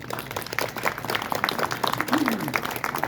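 A crowd at a flag rededication ceremony applauds in a steady wash of many hands, with voices and chatter mixed in throughout.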